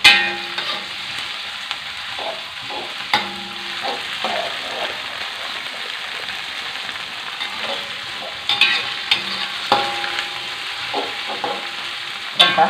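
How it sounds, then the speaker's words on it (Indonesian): Spices stir-fry in a pan for a sweet soy sauce dish of chayote and tempe: a continuous crackling sizzle broken by repeated scraping strokes of a spatula, close and fairly loud, with no talking. "Tumis sampai aromanya naik sahabatku ya."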